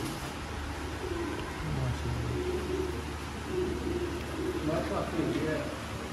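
Low, soft cooing of Sialkoti pigeons repeats through a steady background murmur, several birds calling close by with no clear pauses.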